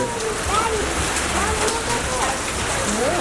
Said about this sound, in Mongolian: Бороо орж штэ.